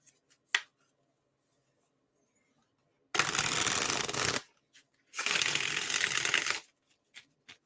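Two long bursts of riffling tarot card shuffles, each lasting over a second, with a few soft taps and clicks before and after; close and fairly quiet, no talking.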